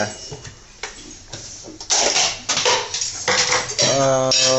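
Small metal pots and bowls clatter and clink repeatedly, close by, with a voice talking over the handling and a louder burst of clanking near the end.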